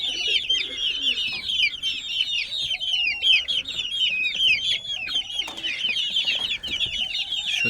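A flock of chickens and roosters on a poultry farm clucks and calls continuously, with overlapping, busy bird voices close to the microphone throughout and no talking.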